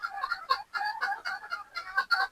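Young pullets clucking in a pen on a game farm, a close, busy run of short overlapping clucks and calls in uneven bursts with brief pauses between them.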